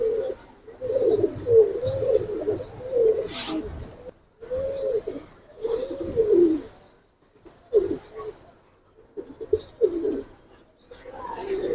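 Giribaz pigeons coo in repeated soft throaty phrases with brief pauses, close by, over faint background noise.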